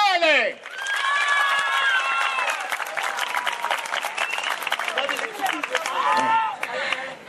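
Loud, sustained applause and cheering with sharp whistles rise for contestant Melania Reale at an amateur talent show in Marano. The clapping fills the whole stretch and fades briefly near the end.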